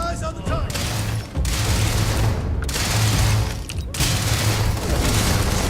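Turret gunfire in the video game Starfield, dense rapid bursts of shots and booms that run in loud stretches broken by brief gaps.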